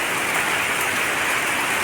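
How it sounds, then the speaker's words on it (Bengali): Steady, dense rain drums on the tin roof of a village house, a continuous close hiss and patter with no voices. "এই বৃষ্টিগুলো যখন টিনের মধ্যে পড়ে তখন কিন্তু একটা সুন্দর আওয়াজ হয়"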